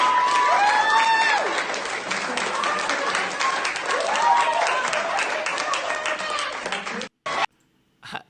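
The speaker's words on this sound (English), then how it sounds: "Rants were met with applause." Applause and crowd noise at a school board meeting, sustained clapping and murmuring with some voices for about seven seconds before cutting off abruptly, followed by brief bursts and near silence.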